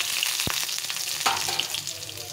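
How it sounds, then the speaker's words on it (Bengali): Chopped garlic sizzles in hot oil in a pan, a continuous close crackle broken by a sharp clink of a utensil early on and another knock midway. "এর মধ্যে কিছুটা রসুন কুচি দিয়ে দিই"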